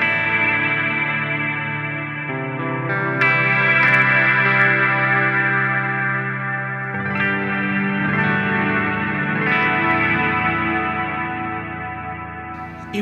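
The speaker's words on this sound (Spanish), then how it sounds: "esta sería una reverb que me gusta de la Podgo" Stratocaster electric guitar played through the ambient reverb of a Line 6 POD Go, sustained chords and notes blooming into a wide, washy tail that stays loud and continuous for the whole stretch, with no voices.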